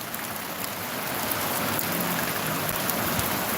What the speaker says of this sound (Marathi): दादा पाऊस बघतोय